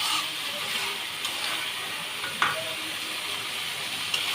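Biryani masala sautéing in oil in a pan, a steady close sizzle and hiss with occasional faint stirring clicks, continuous and alone without talk.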